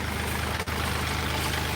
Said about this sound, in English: I'm down here in the tractor with the backhoe.